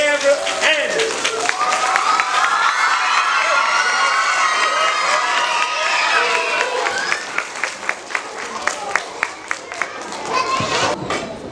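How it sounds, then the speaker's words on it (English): An audience applauds and cheers for a program director at a live children's reading event, with dense clapping and shouts of kids swelling then thinning into scattered claps near the end. "I need y'all to give a round of applause for the program director"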